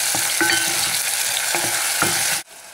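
Onions and tomatoes fry for shiro, a steady broadband sizzle in a pan with a few stir knocks, loud and close and without voices, until it cuts off sharply near the end.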